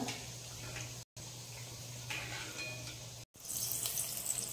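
Matar kachori deep-frying in hot oil over a medium flame, a soft continuous sizzle with faint crackles, briefly cut by two gaps and turning brighter and louder near the end.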